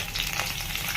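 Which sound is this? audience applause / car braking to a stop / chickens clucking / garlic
garlic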